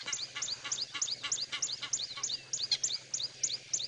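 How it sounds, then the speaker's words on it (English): Repeated harsh honking calls from Egyptian geese in quick succession, a steady series of raspy, nasal cries fairly close by with no speech. "this is why Egyptian goose are annoying"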